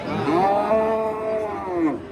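A young bull at a livestock market in Kattakurgan gives one long, loud, drawn-out moo from close by, with no voices over it.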